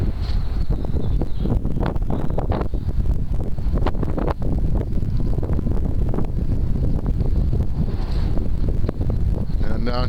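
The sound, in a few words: offshore wind blowing into microphone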